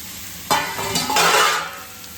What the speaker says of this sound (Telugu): ఇంకా దీన్ని బాగా కలుపుకోవాలి. మసాలా అంతా పట్టేటట్టు.